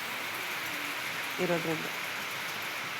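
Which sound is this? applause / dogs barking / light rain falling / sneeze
light rain falling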